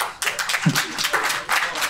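Audience applause at an MMA press conference, a brief spatter of claps filling under two seconds, fairly close and moderate in level, with crowd noise mixed in.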